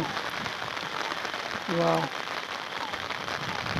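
Heavy monsoon rain pouring steadily in a village, a dense even hiss of drops on surfaces close by, with a brief voice-like tone rising over it midway.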